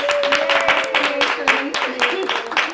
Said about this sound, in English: So everyone give Kat a big round of applause.